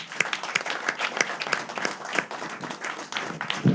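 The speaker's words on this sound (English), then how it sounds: "Ladies and gentlemen, can we have a huge round of applause again?" Audience applause after a senior lawyer's address at an Indian bar association event, a steady wash of many hands clapping throughout with scattered sharper claps standing out, moderately loud and continuous.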